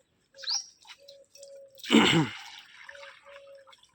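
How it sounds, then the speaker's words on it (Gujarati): Water pours briefly into a bowl at an outdoor bird feeder, a short splash and trickle set among scattered soft bird chirps and light drips. "કુંડા બાકી છે એમાં પાણી ભરી દો."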